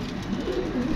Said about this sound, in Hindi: बाकी ये कबूतर है माशाल्लाह